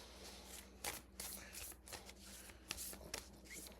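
Healing Spirit oracle cards by Gordon Smith are shuffled by hand in quick irregular bursts of riffling and flicking, close and soft, with no talking.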